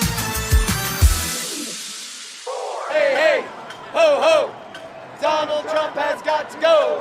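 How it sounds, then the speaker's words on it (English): Protesters chanting on a Chicago street during a weekend demonstration, a crowd of voices rising in rhythmic bursts of call-and-response shouting after a brief stretch of other sound, fairly loud and close. "That was the sound of protesters on the streets of Chicago this weekend"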